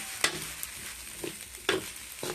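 Egg cooks into hot rice in a pan, quiet sizzling broken by a few sharp scraping stirs spaced apart.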